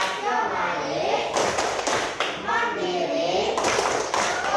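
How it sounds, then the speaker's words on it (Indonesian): Children in a class clapping in rhythmic bursts while chanting together, the claps close and loud over their voices. "Untuk selanjutnya kita tepuk PPK ya"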